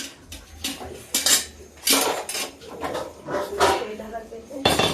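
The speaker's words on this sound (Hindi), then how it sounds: "अब कढ़ाई निकाल के कढ़ाई इधर रख देते हैं।" A metal kadhai is lifted off the stove and set down with a series of clanks, metallic clinks and scraping knocks. The hits come irregularly and are fairly close, and faint talk can be heard.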